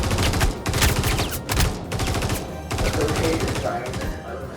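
Guards firing weapons in the video game Star Citizen, dense rapid bursts of gunfire running nearly continuously, loud and close, with some background game noise.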